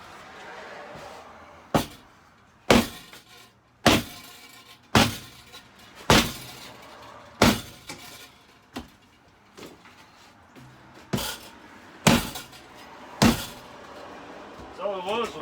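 A hammer knocks apart a stapled divider wall inside an ambulance, about a dozen loud, sharp, cracking blows at uneven intervals with a quiet scraping room sound between them.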